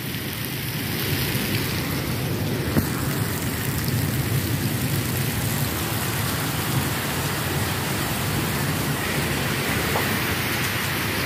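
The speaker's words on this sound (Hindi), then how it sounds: "तेज़ बारिश है ज़बरदस्त" Heavy rain pours steadily on rice fields in a dense, constant hiss, loud and close, with no voices over it.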